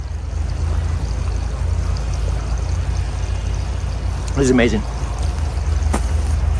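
Water pours steadily onto bare garden soil to water in sulfur around a transplanted mature blueberry bush, a continuous close splashing wash, while a voice briefly speaks over it.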